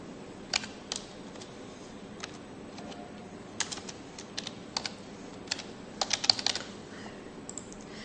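Someone types on a computer keyboard at close range, producing scattered key taps and short bursts of clicking over a low background hum, with no speech.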